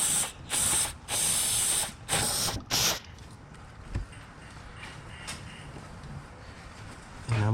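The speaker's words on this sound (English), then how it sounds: "we're gonna use throttle body cleaner. So we're just gonna spray it in there." Several short bursts of throttle body cleaner spraying with a hiss in quick succession, close by, on a Nissan engine, followed by quieter rustling and handling noises.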